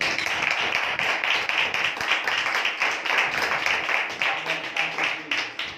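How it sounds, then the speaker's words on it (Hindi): Members of a Hindi-speaking church gathering clap loudly and rapidly in unison, a thick, even roar of hand claps sustained throughout, with a faint voice surfacing briefly near the end. "एक बार जोर से ताली बजाएं परमेश्वर को"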